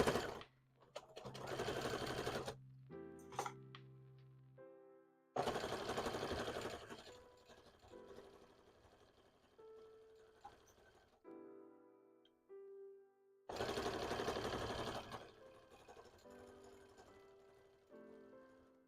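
A sewing machine runs in three long bursts while a seam is stitched, loud and close, with quieter gaps of handling and faint tonal sounds between the runs.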